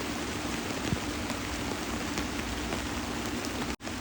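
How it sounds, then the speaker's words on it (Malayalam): Steady rain falls in a forest where wild elephants bathe, a dense, even patter of drops on leaves and ground with a few heavier splats, close and continuous with no voices. "പക്ഷെ വന്നേ തന്നെ ആദ്യമായിട്ട് ഇങ്ങനെ മഴ പെയ്യുന്നു"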